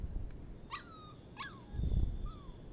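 A young dog in the video game Life is Strange 2 gives a few high thin whimpers and short whines, close and fairly quiet, with soft rustling and a low thump between them.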